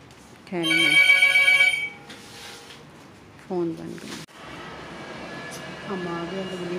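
A mobile phone ringtone plays loudly in a harmonic electronic melody, sounding in bursts with pauses between, while a hospital lift area hums in the background.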